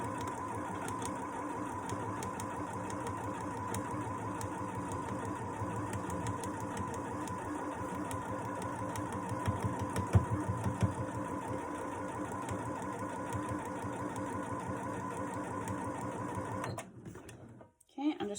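A sewing machine stitching a simple baby blanket runs steadily with a fast, even whirring hum, close by, then stops abruptly near the end. A person speaks over the machine noise.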